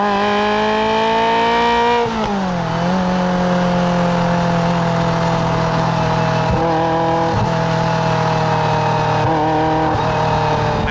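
A road-legal 1995 Ferrari F355 Challenge engine revs while driving, a loud sustained harmonic howl that dips briefly with a gear change and then holds high and steady, punctuated by short throttle lifts.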